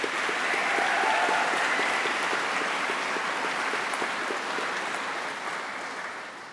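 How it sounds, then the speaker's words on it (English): Audience applauding at a graduation ceremony: steady, dense clapping from a large crowd in a hall, loud at first and gradually fading toward the end. "can we get another big round of applause for them?"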